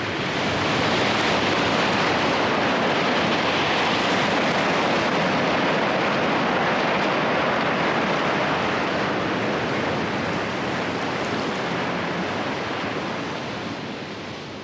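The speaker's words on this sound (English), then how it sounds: "huge waves beat upon St. Lazaria's exposed shore" Huge ocean waves pound St. Lazaria's exposed rocky shore in the Pacific, a loud, continuous roar of surf with no voices.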